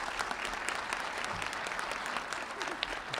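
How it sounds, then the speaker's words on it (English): Audience at a school Wreaths Across America ceremony giving a round of applause, steady scattered clapping at moderate distance, fairly faint and even throughout. "Let's give her a round of applause."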